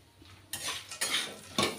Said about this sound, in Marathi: काजू टाकते मी।